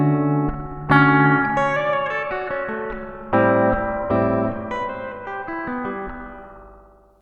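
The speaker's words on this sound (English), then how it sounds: "sending a completely dry, no tone added guitar signal to a spring reverb, we can already get a nice sound out of it" A dry, untreated guitar signal rings through a spring reverb as a series of plucked notes and chords, each attack followed by a long shimmering, decaying tail; loud and alone, no voices.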